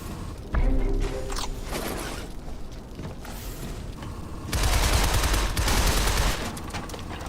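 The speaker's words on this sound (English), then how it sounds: "you're going to want to jump and fire a grenade in midair to take him out" A grenade launched in midair in the video game Shadow Complex gives a loud, close burst of gunfire and blasts, with an explosive rush near the start and a second heavy boom later.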